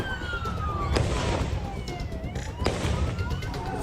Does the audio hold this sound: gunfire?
yes